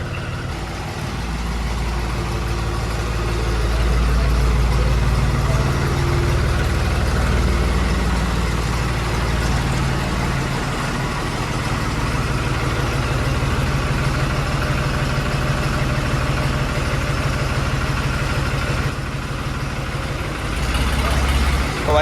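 A modified tractor's engine idles with a deep, steady rumble close by, swelling slightly as it pulls away and drives out, continuous for the whole stretch.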